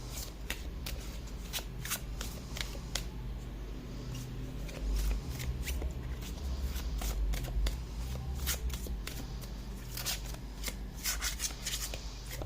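Tarot cards are shuffled by hand, a rapid series of crisp riffling flutters and card slaps close to the microphone, repeating steadily with a low background hum and no talking.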